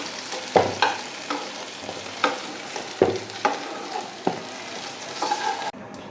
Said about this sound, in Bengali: খুব বেশি ভাজবো না একটু হালকা করে ভেজে নেব